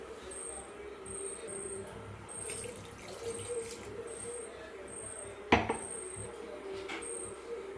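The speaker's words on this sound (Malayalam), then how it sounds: "ഇതിലേക്ക് നമുക്ക് ആവശ്യത്തിന് വെള്ളം ഒഴിച്ചു കൊടുക്കാം." Water pours from a tap into a cooking pot for an Alappuzha-style curry, a steady low running splash with a few brief clinks, heard alone at moderate level.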